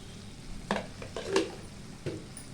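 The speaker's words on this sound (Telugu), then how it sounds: "వేసి ఒకసారి బాగా పచ్చివాసన పోయేలాగా ఫ్రై చేసుకోవాలండి" Ginger garlic paste fries in a pan for egg curry, a low steady sizzle with three or four quick spoon scrapes and stirs, close and fairly soft.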